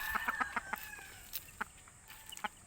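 Chickens cluck in quick, soft bursts among hens with a brood of chicks, with faint peeping and a few sharper calls spread through the short, quiet stretch.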